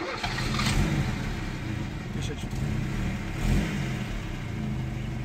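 A Soviet VAZ-2105 with a carburetor engine starts and is revved, a steady close engine roar with throttle swells, while a person talks over it.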